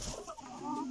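A rooster gives a short, thick, clucking call, brief and fairly faint, heard on its own.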